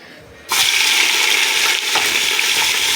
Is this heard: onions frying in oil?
yes